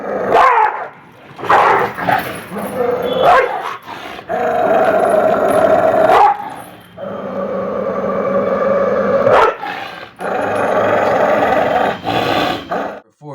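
A Great Dane barks and growls in repeated loud, close outbursts, with deep rumbling growls between short barks and a few higher yips.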